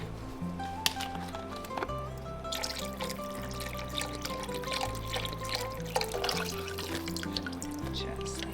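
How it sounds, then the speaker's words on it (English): Bone broth pours into a soup pot of chicken noodle soup, a soft continuous trickle and splash lasting several seconds, moderately quiet with a steady hum underneath. "Let's add in more bone broth."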